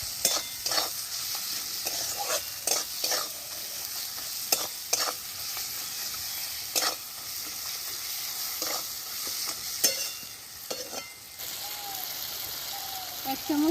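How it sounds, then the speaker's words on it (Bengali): Spices with salt, turmeric and chili powder sautéing in a pan for egg poach curry, a steady close sizzle broken by repeated sharp scrapes of a spoon stirring the masala, with no talking. "1 চামচ নুন, 1 চামচ হলুদ, 1 চামচ লঙ্কার গুঁড়ো দিলাম। ভালো করে কষিয়ে নেব।"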